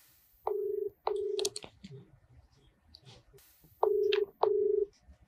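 A phone dials a call to a woman's husband, with two pairs of steady keypad tones separated by soft clicks and handling noise, close and clear, no one talking.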